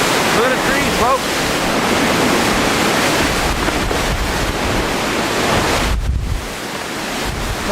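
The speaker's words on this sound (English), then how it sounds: "Just thought you'd get a kick out of how much wind we do get." Strong, damaging wind roars through trees in Newfoundland in March, a loud continuous rushing that buffets the microphone and eases slightly near the end.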